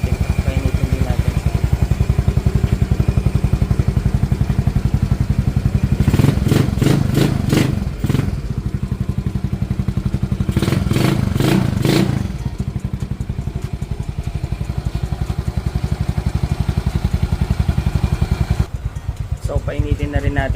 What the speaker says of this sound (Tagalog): So guys, start din natin. Painitin din natin.